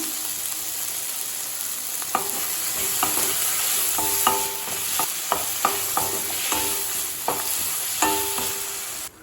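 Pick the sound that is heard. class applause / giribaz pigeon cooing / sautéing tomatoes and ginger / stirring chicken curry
sautéing tomatoes and ginger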